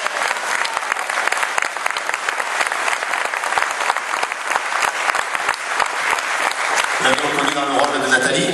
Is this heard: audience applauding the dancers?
yes